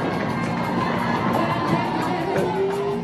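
Rugby sevens crowd at a Pacific Military Cup tournament, roaring and cheering after a try by the Cook Islands, with children shouting and steady whooping throughout, loud and sustained with no pause.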